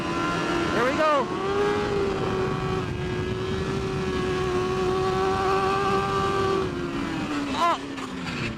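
A superbike engine screams under hard throttle on a race track, a loud sustained high-revving tone with brief shifts in pitch, heard close from the rider's position.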